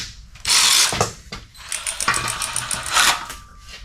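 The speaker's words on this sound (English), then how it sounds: "Hopefully the socket's deep enough to get in there." A socket wrench ratchets on a fuel pump bolt of a 1969 Chevelle wagon, giving bursts of rapid metallic clicking with short pauses between strokes, close and fairly loud, with no talk.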